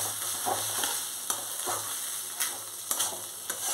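Rice being stirred as it fries in a pan for basanti pulao, a steady soft sizzle broken by regular, crisp spatula scrapes roughly every half second.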